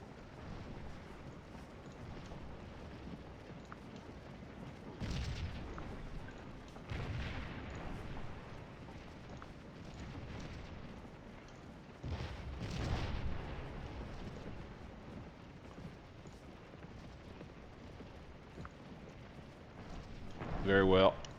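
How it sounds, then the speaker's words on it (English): Civil War cannon fire in the Gettysburg battle game Scourge of War, a few distant booms around five and twelve seconds rising from a steady rumbling battlefield background, with a brief tonal game sound near the end. "These cannons should do a good job along with von Amsberg's troops here."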